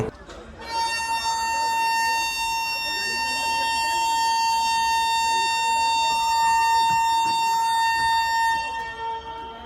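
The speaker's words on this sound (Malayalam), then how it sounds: "നല്ല കിടിലൊരു ഹോണാണ് കേട്ടോ." A loud, sustained horn from the Rishikesh–Trivandrum North SF Express train blares steadily for several seconds, rich and harmonic, while a voice talks faintly underneath.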